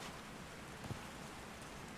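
Steady rain in the game Call of the Sea, a soft, even hiss of falling drops with one faint thump midway and no voices.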